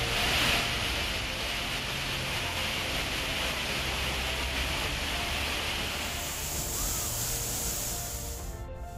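The Kaveri river roars down the falls at Hogenakkal in a loud, unbroken wall of rushing water that holds steady throughout.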